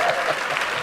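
Studio audience at a comedy show clapping for guests, a dense, steady burst of close applause from a crowd.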